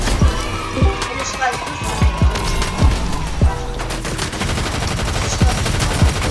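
A Scar assault rifle fires in the Fortnite video game, sharp repeated shots in short bursts under a person talking over game sounds.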